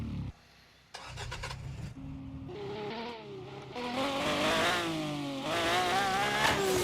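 An ambulance engine cranks, starts and revs up loudly, the pitch climbing and falling in strong surges, close by and with no one talking.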